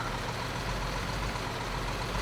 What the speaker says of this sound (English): So this is the dump truck.